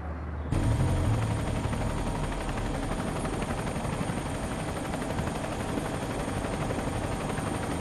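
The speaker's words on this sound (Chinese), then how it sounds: "好像是飞机。" An aircraft passes overhead at high altitude near a special-forces parachute jump, a loud, steady rotor-like drone that starts abruptly and continues unbroken, heard alone.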